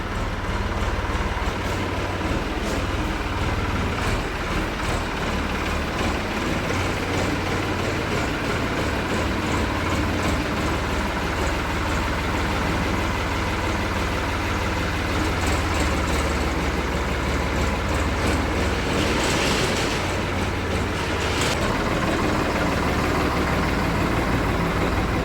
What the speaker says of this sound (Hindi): कर दियो ट्रैक्टर स्टार्ट